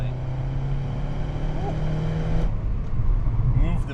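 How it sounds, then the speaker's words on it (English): Exhaust note of a 2013 Mini Cooper S Roadster with a 6-speed, heard close at the tailpipe: a steady low engine drone that shifts pitch partway through as revs change, loud and continuous. "now it's over the exhaust to get a load of that exhaust note, which is fantastic"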